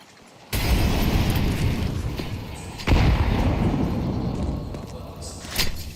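High-explosive grenades detonating during a professional Counter-Strike match: two loud, close blasts a couple of seconds apart, then a smaller pop, over constant match noise.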